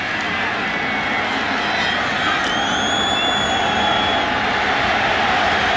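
Football stadium crowd at a 1998 West Virginia vs Miami college game roars steadily as fans rise to their feet, a dense, sustained wash of cheering throughout, with no clear speech on top.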